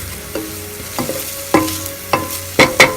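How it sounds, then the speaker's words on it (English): Onion, ginger, garlic and green chilies sauteing on low heat for a chicken samosa filling, soft sizzling under a series of sharp spoon knocks and scrapes against the pan, close and increasingly frequent, with no talking. "our onion, ginger and garlic sauteing here. I'll add some green chilies to it."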